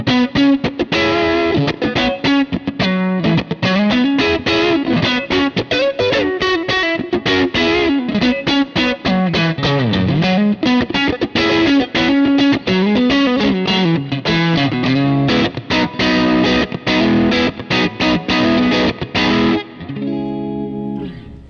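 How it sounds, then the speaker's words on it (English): Distorted electric guitar playing fast, busy lines through a plate reverb on a Line 6 HX Stomp, with a short, bright tail, loud and continuous before ending on a sustained chord. "It's just like a very plate kind of a reverb."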